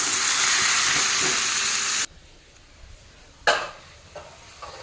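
Boiled cabbage is stirred with salt in a hot pan. A loud sizzle fills the first half, then cuts off, leaving quiet with a sharp clatter and a few soft knocks.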